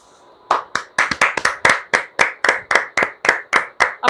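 Steady rhythmic clapping from the audience at a book launch, roughly fifteen sharp, evenly spaced claps starting after a brief quiet moment, close and loud with no voices over them.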